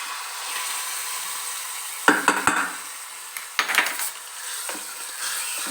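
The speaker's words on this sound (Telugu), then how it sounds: "పోపు పెట్టుకుందాం." Mustard seeds and spices crackle and sizzle in hot oil as a tempering for a spinach chutney, with a few sharp clinks of a spoon against a metal pan in short bursts.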